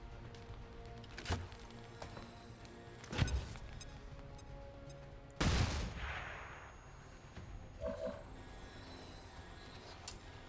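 Gunfire and a grenade blast in the video game XCOM 2 Long War of the Chosen come as a few sharp shots and then a heavier boom with a fading tail, all over steady low background game ambience.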